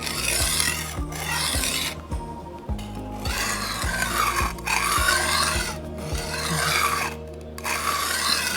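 A knife blade is sharpened lightly to remove the burr, giving a series of rhythmic, close rasping strokes about a second apart, each a short scraping sweep, with no talk.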